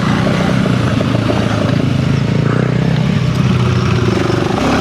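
A Honda CRF300L or KTM 390 Enduro R ridden hard off-road, its single-cylinder engine roaring loud and close for the whole stretch, revs rising and falling through a hard turn.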